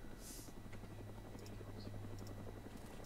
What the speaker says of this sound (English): One of our helicopters is over the area now.